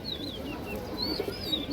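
A pigeon coos softly and low at close range, a quiet rolling murmur with thin, high bird chirps drifting faintly above it.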